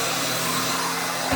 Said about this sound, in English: Because I'm using a new vacuum cleaner that I bought recently